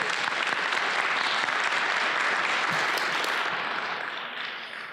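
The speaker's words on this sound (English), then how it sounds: "please give a warm round of applause for Mr." A school board meeting audience gives a warm, sustained round of applause for a Big Picture student, close and full-bodied clapping that continues for about five seconds and begins to taper at the end.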